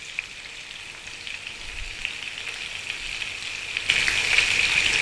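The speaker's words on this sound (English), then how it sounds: "So we got this lovely, beautiful salmon simmering in there" A salmon fillet sears in a hot pan, giving a close, steady sizzle with crackling spits that swells louder toward the end; no voices are heard.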